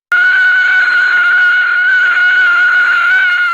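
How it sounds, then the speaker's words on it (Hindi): A ghost's long, shrill, piercing scream from a horror tale of a haunted mansion, sustained loud and unbroken for more than three seconds with no other sound around it. "भूतनी ने एक और चीख मारी और उसकी ओर बढ़ी।"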